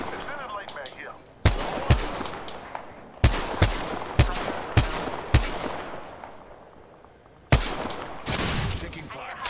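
Gunfire in the Apex Legends video game: sharp, loud shots and rapid bursts arrive in irregular clusters, each one decaying into a ringing tail, with busy game ambience between them.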